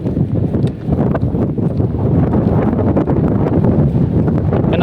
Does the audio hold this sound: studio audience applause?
no